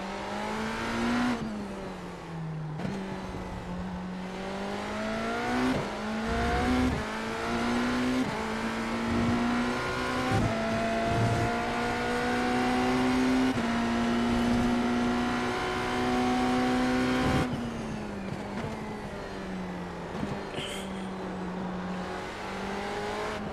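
Race cars lap a track with a loud, continuous engine drone that rises and falls through upshifts and downshifts, pitch swooping as revs climb and drop, no talking over it.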